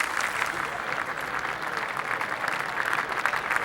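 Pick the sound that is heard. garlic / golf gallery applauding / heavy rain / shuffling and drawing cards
golf gallery applauding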